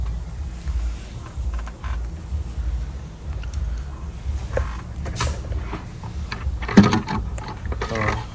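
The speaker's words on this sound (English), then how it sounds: "So we are ready to remove the intake" A hand ratchet clicks in short, close bursts while intake bolts are removed from a 2011 Ford Escape 3.0 V6, with a low shop hum beneath and a sharper clank near the end.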